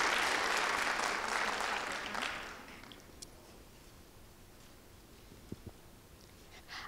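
An audience at a school Black History oratorical competition applauds loudly, a dense clapping burst that tapers off after a few seconds, leaving scattered claps and small knocks in a quieter room.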